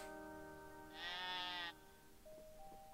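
A single short sheep bleat from the Harvest Moon video game, a quavering call lasting under a second over quiet game background music.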